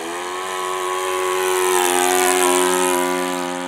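A 45-year-old model biplane engine runs close and loud with a steady, buzzing drone. Its pitch stays level and its volume swells gently across the stretch, with no voices over it.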